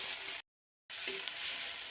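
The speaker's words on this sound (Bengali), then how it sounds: "এখন তেল ফোড়ন দিয়েছি, তেজপাতা, জিরে আর পেঁয়াজ," Bay leaves, cumin, onion and garlic-ginger paste sizzle steadily in hot oil for chickpea curry, a close, constant frying hiss broken by a short gap of silence.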